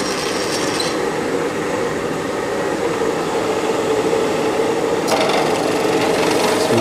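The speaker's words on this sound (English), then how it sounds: "turn my spindle on. Now we're just gonna take a skim pass." A milling machine spindle takes a light skim pass across a rectangular block, a steady close grinding rasp of the cutter with a brighter, harsher edge entering near the end.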